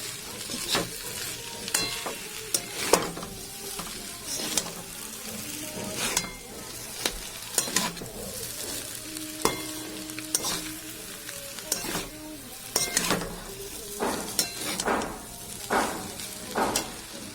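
Chowmein tossed and stirred in a hot pan ahead of the egg, a steady frying sizzle punctuated by repeated sharp scrapes and knocks of the utensil at an uneven rhythm, with no speech.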